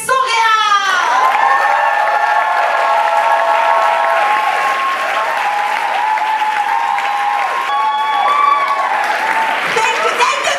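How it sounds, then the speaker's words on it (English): A large crowd applauds loudly and continuously, with cheers and whoops rising above the clapping throughout. "A big applause"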